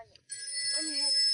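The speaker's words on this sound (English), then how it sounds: "Oh, the phone. I better turn this thing off." A telephone rings with a bright, sustained electronic bell tone, while a voice speaks softly underneath.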